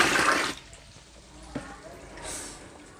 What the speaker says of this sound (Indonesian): Airnya ditambah